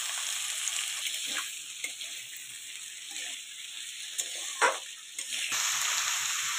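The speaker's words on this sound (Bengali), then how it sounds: "তেল গরম হয়ে গেছে, আলুগুলো দিয়ে দিচ্ছি। একটু ভালো করে আলুগুলো আমি ভেজে নেব।" Potatoes frying in hot oil, a continuous close sizzle punctuated by a few sharp crackles and a brief clatter, with the hiss swelling louder near the end.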